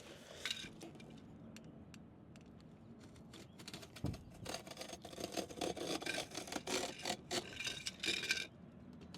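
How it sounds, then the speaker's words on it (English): A blade cutting all the way around the bottom of a cardboard box, giving steady quiet scraping and rasping with crisp rips and clicks that grow busier toward the end, up close with no talking. "cut the bottom of this box. We're just going to cut it all the way around."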